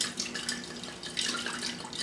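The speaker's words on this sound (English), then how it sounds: "I'm going to put some water," Water poured into a low floral arrangement container holding blue decorative rocks, a steady splashing trickle running continuously and close by, with no talking.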